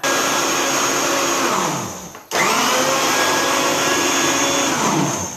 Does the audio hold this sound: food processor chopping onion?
yes